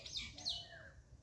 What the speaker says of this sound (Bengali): দুটি শালিক